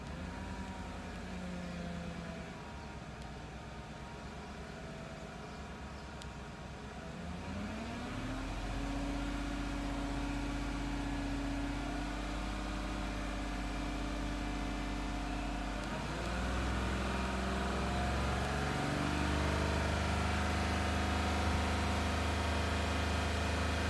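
A GMC Sierra engine fitted with a cold air intake, idling steadily and then stepping up in a few sustained revs, each holding a higher droning pitch, heard close with no talking.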